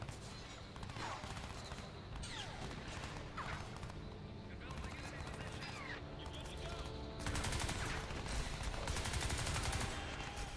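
Dense gunfire in the video game Crysis 3, with rapid shots over a loud, busy battle soundscape that stays steady and grows heavier toward the end, with talk mixed in.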